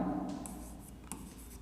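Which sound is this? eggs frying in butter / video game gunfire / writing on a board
writing on a board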